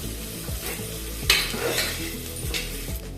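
Sliced onions sizzle and crackle in a pan as they fry toward brown, with a sharp scrape of a spoon stirring near the middle and continuous close frying around it.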